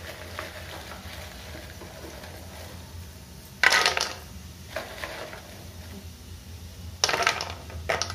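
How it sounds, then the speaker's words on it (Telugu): Cumin and mustard seeds crackle in hot oil for sabudana upma, a low steady sizzle with sharp bursts of popping near the middle and again toward the end, close and without talk. "ఇలా కొంచెం జీలకర్ర ఆవాలు వేసుకోవాలి."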